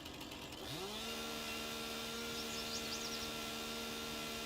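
Chainsaw in the Farming Simulator video game running steadily while stripping felled trees, a sustained buzzing drone that starts up after a brief moment and holds at an even level throughout.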